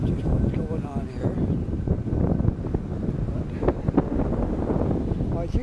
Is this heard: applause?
no